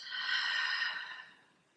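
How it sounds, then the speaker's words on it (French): One long, soft exhale through an open mouth during a yoga session, close and breathy, fading out at the end. "expire bouche ouverte"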